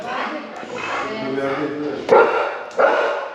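An agitated dog barks and yips excitedly at a cat close by, with two sharp louder barks near the end, mixed with a person's voice.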